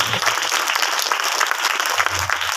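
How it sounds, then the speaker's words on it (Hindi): A church congregation at a Rajnandgaon meeting claps loudly in thanks to the Lord, a bright, continuous patter of many hands with a faint low voice murmuring beneath at the start and end. "हमारा आशीष देने वाला परमेश्वर की जोर से ताली बजाकर प्रभु का धन्यवाद करें।"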